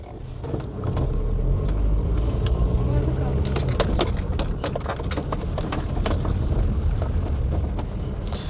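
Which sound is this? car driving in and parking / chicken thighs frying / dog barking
car driving in and parking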